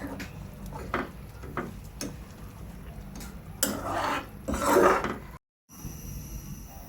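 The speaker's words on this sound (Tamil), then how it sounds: "காய்கறியை போட்டுட்டு ஒரு கிளாஸ் தண்ணி ஊற்றிட்டு நல்லா கொதிக்க விடுங்க" A spoon stirs vegetable gravy for pav bhaji in a pan, giving scattered scraping and clinking strokes that grow busier and louder toward the end before a brief cut to quiet.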